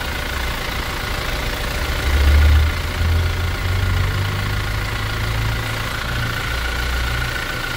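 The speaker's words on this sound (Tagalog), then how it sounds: "Ayun, tuloy-tuloy naman ang andar natin." A 2025 Toyota GR Fortuner engine runs steadily at idle after a fuel pump and fuel filter replacement, a continuous low rumble that swells slightly around the middle, with no talking.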